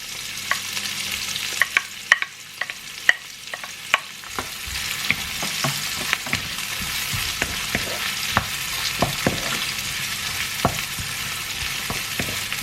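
Garlic sizzling in a pan for a Thai green curry, with a steady frying hiss and scattered clicks of stirring and pops that continue throughout, with no voices.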